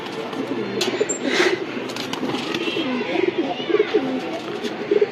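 Male pigeons in a home loft give repeated soft, throaty coos in overlapping bursts, fairly close, with a voice talking underneath throughout.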